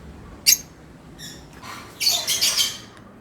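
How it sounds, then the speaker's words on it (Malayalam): African lovebird outside its cage giving short shrill squawks and chirps, one sharp call then a burst of rapid high chattering, close and clear against a quiet room. "കിളിക്ക് കൂട്ടിൽ കയറണമെന്നുണ്ട്"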